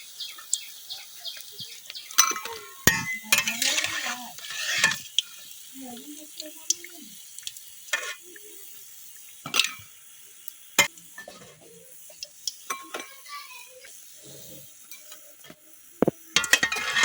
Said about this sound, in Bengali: প্রথম গুলো নাস্তাগুলো ভাজা হয়ে গেছে, এখন আমি দ্বিতীয় গুলো নাস্তাগুলো দিয়ে দেব